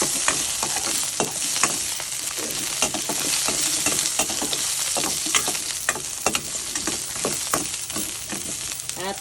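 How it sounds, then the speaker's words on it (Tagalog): Garlic and ginger sizzle loudly in hot oil in a pan, a continuous frying hiss broken by frequent spatula scrapes and taps at an uneven pace. "unang gagawin ay igisa ko muna ang bawang luya para maging malasa"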